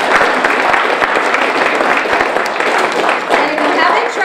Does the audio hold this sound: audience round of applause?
yes